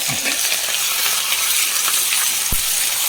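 Green chillies, shallots and crushed curry leaves fry in a pan, giving a steady, close hiss of sizzling oil with a faint clink of a spoon partway through.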